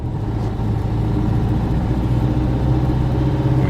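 Engine of a 1960 VW ragtop Beetle heard from the driver's seat while cruising, a steady low air-cooled drone with constant rumble and no talk.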